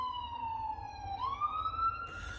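An emergency vehicle siren wails in a long, steady tone that sweeps down and then back up, fairly close and loud over a low background rumble.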